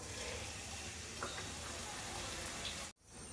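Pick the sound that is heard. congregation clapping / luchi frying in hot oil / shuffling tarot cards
luchi frying in hot oil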